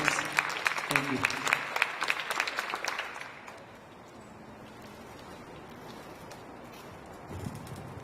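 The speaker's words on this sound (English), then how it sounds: "let's give our amazing counseling team a round of applause for all of their efforts this year" A school crowd claps in applause for the counseling team at a senior awards ceremony, the dense clapping filling the first three seconds before fading into quiet room tone with faint murmuring.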